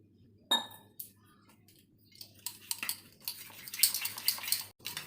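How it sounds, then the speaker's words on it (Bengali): Batter made with water, chili powder, green chilies and black cumin is mixed in a bowl, with scattered clinks of a utensil against the bowl that build into busy stirring and scraping, close and with no talk. "এবার জল দিয়ে একটা ব্যাটার তৈরি করব।"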